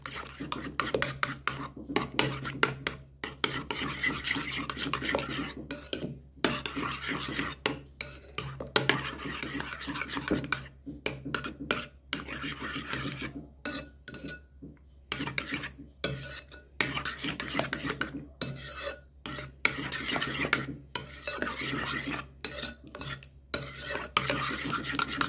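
Cucumber egg salad with honey and salt is mixed in a bowl, a brisk, rhythmic run of utensil scrapes and clinks against the dish, close and continuous with brief gaps.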